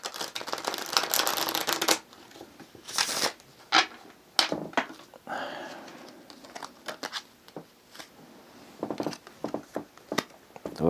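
A deck of White Sage Tarot cards is shuffled close by in quick riffling bursts and short flicks with pauses between, while a bird coos faintly in the background.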